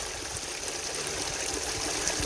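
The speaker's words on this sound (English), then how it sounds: "I'm not adding any extra water, it's just the pump." Pumped water runs steadily through a homemade 6-inch highbanker for gold prospecting, a constant close rushing and trickling wash with no pauses and no voices.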